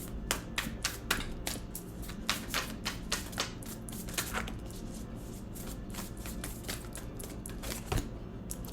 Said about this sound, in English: So I'm going to pull a card from the Shaman Oracle deck.